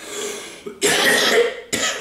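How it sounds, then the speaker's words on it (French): Two harsh, close coughs, the first long and rasping, the second starting just as it fades. "veuillez m'excuser, je tousse"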